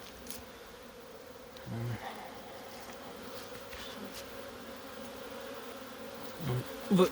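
Honeybees leaving their hives on a winter day at an apiary in Kyiv region, giving a steady, faint buzzing hum throughout with a few brief louder passes close by.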